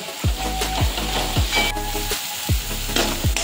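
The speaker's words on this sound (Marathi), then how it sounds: "बघा किती छान तेल सुटले। अजून थोडंसं फ्राय करू।" Fish curry ingredients sizzle and fry in hot oil, with a steady crackling bed and repeated stirring scrapes about every half second, close and fairly loud with no talking.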